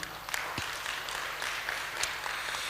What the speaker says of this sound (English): Please give a big applause to Dr.